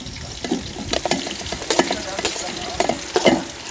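Four large onions fry in hot oil for a 1 kg mutton dum biryani, a steady close sizzle broken by repeated scraping stirs of a spatula in the pot, moderately loud with no talk heard.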